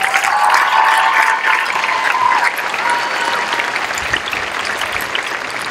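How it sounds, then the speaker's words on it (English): Steady applause from a large crowd at a high school graduation, loud and sustained, gradually easing slightly toward the end. "One more round of applause for our valedictorian and our salutatorian."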